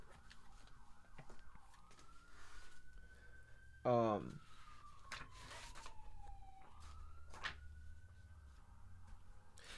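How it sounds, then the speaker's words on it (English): A siren wails faintly in the distance, its pitch rising and falling in slow sweeps, while a person speaks quietly nearby. "so I hear sirens."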